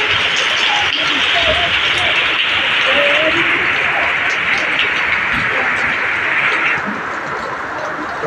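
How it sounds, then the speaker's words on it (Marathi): Heavy monsoon rain pours down outside a house, a dense, steady hiss that stays constant and close for the whole stretch with no break. "मी तुम्हाला आता बाहेर दाखवते केवढा पाऊस सुरू आहे"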